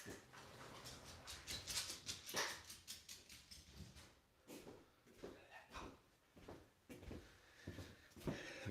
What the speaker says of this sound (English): The dog is barking a little bit.